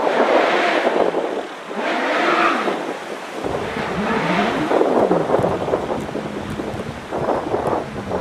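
GR59 hillclimb race car with a turbocharged 1.3 Suzuki engine at a British Hill Climb Championship round at Doune, a loud engine rising and falling through gear changes, with heavy wind buffeting over the microphone.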